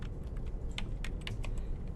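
Typing on a computer keyboard while writing code in Adobe Flash: a quick run of light, close key taps over a steady low background hum, no speech.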